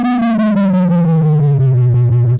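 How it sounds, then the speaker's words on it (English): Deep sub-bass wobble made from two phasing sine waves, a steady low tone that pulses in rapid regular throbs and glides slowly downward in pitch, loud and alone with no voices. "It's a sub effects wobble."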